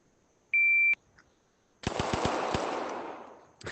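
A rapid burst of about five gunshots in a VR shooting drill video game, sharp and loud, following a shot-timer beep and ringing into a long fading echo, with one more shot at the end.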